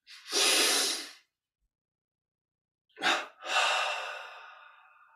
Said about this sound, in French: Et double expire, on relâche.